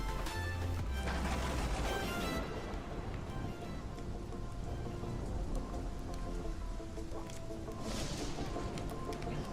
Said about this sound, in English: Now it's getting cold and rainy.